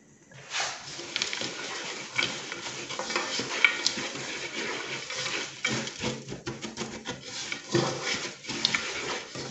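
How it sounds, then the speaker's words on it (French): Granola ingredients are stirred and mixed together in a bowl, giving a continuous scraping and rustling of dry oats and clumps against the container that goes on steadily for about ten seconds with no talk. "Alors je vais venir bien mélanger."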